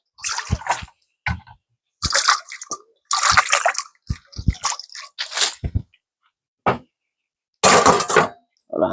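A box grater being rinsed under running water in a home kitchen while cooking Jamaican gungo peas soup, with loud bursts of splashing and gushing water coming in short separate spurts close by.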